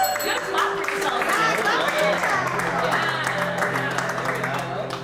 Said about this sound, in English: Good clap for yourself.